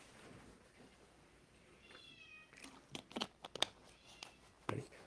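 A house cat meows softly a few times in a quiet room, brief faint calls set against low background noise.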